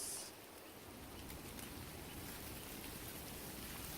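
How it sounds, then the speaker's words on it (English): Light rain just beginning to fall outdoors in nature, a soft, faint and continuous patter and hiss with a brief high chirp at the very start. "It's just started to rain."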